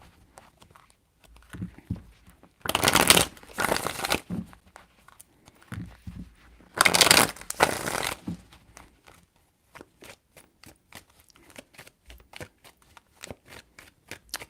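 Tarot cards being shuffled by hand in two distinct bursts of riffling, each about a second and a half long, with soft handling clicks and small movements between and after them, close and fairly quiet.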